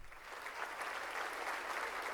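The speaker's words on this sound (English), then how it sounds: "The applause makes this even creepier." Applause inside a Vocaloid song using the V Flower voice, a steady wash of many hands clapping with a soft, even texture throughout the short stretch.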